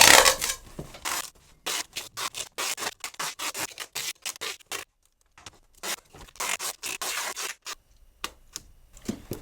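Packing tape pulled off the roll and pressed onto a cardboard shipping box, giving a series of short, close ripping and rubbing bursts in uneven rhythm with brief pauses between them.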